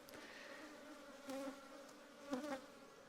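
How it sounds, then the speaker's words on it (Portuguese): Honey bees buzzing around an opened hive, a soft continuous drone with a couple of brief louder swells as individual bees pass close, faint and without voices. "Eu tô sentindo essas abelhas assim bem agressivas"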